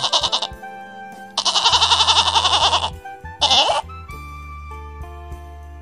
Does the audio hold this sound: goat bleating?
yes